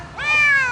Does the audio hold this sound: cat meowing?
yes